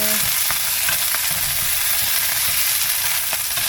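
Chili pepper leaves fry in a hot pan with garlic, giving a loud, continuous crackling sizzle with a few faint stirring knocks and no talk.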